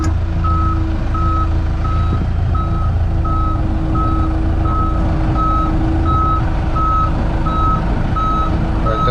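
A truck backs up slowly during tomato loading in a field, its reversing alarm giving a steady series of evenly spaced beeps over a constant, close diesel engine rumble.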